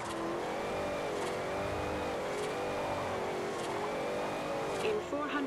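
A 660 horsepower Ford Mustang drifting in the Forza Horizon video game, its engine holding a steady, close, wavering high-revving whine with faint tyre noise, under a low voice.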